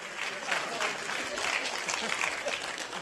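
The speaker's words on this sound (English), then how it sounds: "Let's give him a round of applause" A church congregation applauds during a Sunday service, a steady wash of clapping held at moderate, somewhat distant volume, with faint speech mixed in beneath it.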